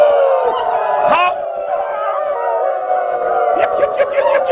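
Several people imitate a wolf howl together in a loud, sustained group chorus of rising and falling voice howls, with a crowd-like blend of overlapping calls throughout.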